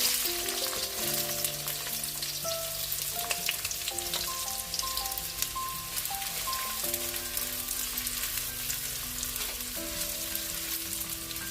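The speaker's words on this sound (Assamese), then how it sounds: "মই পিঁয়াজখিনি ৰঙচুৱা হোৱালৈকে ভাজি থাকিম" Four medium onions fry in hot mustard oil, giving a dense, even crackling sizzle up close with occasional stirring knocks, steady throughout and free of speech.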